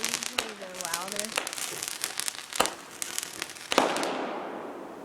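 Fireworks burst outdoors with a series of sharp pops and booms, the last one trailing into a long crackling fizz, while voices talk and exclaim underneath.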